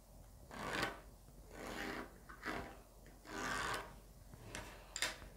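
A marker or chalk drawing a line across fabric while cutting a crop top, a few soft scratchy strokes close up, rhythmic rubbing passes with quiet pauses between them.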